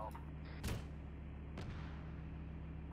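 A single sharp anti-tank missile shot in a military video game, a brief boom followed by a second, fainter blast, heard distantly amid low background rumble.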